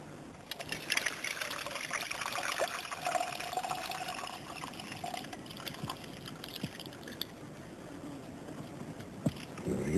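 Water trickles and splashes unevenly as it is poured through a grass strainer, with soft patters and dribbles continuing close by throughout.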